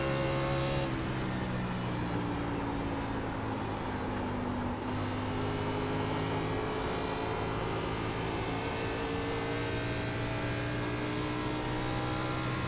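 NASCAR Xfinity race car at Nashville holding steady throttle, a loud continuous engine drone with a constant hum and wind noise and no speech.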